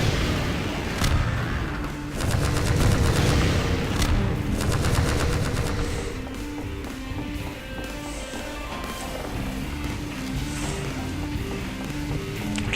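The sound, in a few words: enemy gunfire in video game Deep Down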